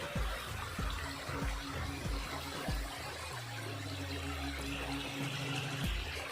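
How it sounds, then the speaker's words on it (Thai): Rushing water at Kham Hom waterfall in Thailand forms a steady broadband wash, with low tonal hum and occasional thumps underneath throughout, no talking. "ถึงน้ำตกนะครับ"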